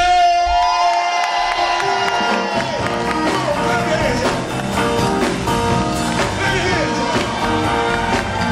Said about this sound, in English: Put your hands together for the mighty